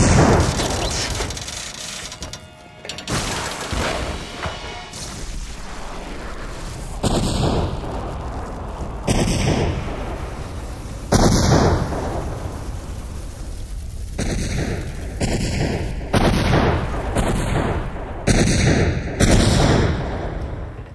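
Gunfire aimed upward in the video game Nocturne booms out as a series of heavy, loud shots and blasts, separated by short pauses and set against a dense, rumbling game soundscape.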